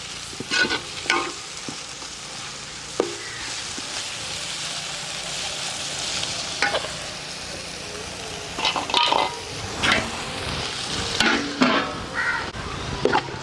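Onion, tomato and coconut pieces for a chicken curry base are stirred and fried in a pan, with close, intermittent scraping strokes over a steady sizzle.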